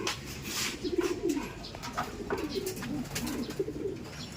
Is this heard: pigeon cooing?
yes